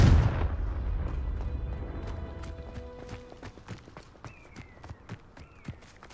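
Confringo fire spell in Hogwarts Legacy bursting with a heavy boom that fades into a long rumbling tail, followed by scattered sharp impacts, clicks and a couple of brief tonal chimes.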